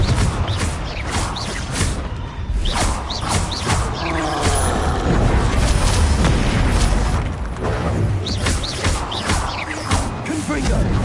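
Confringo blasting spell explosions in the video game Hogwarts Legacy, repeated booms and bursts of fire amid combat noise, with a voice shouting over the fighting.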